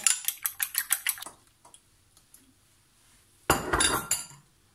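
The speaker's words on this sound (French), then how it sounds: "je vais ici les battre rapidement" Eggs beaten quickly in a bowl for small lemon cakes make a rapid run of metallic clinks, then after a short pause a louder, rougher burst of whisking, close up with no talk.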